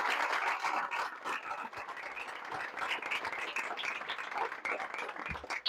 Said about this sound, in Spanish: Un aplauso para eso.